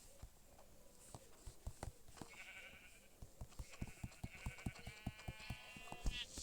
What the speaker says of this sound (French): Ah, bah voilà des moutons.